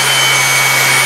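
A Dewalt 125mm palm sander running at 8,000 to 12,000 RPM, a steady loud whirring hiss with a constant hum underneath, close and unbroken, with no talking.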